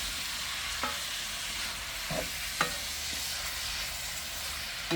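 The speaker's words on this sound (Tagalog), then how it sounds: "I-mix ang karne at saka yung mga taba at mga iba pang hinalong sangkap." Meat, fat and other ingredients are stirred together by hand, a soft continuous mixing rustle with a few faint sharp clicks from the utensil, quiet and without speech.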